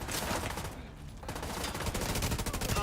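A Tommy gun firing in The Division shooter game, sustained rapid automatic bursts with a brief lull before the fire resumes and grows steadily louder toward the end.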